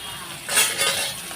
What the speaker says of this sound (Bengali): আর এখন আমি মাছটা ভাজা বসিয়ে দেবো এই যে তেলটা গরম হয়ে গেছে